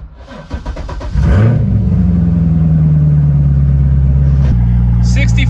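A salvage-auction supercar's LS7 V8 cranks on a jump box, fires up and settles into a loud, rumbling idle, then gets a sharp blip of the throttle, close by, with people talking over it.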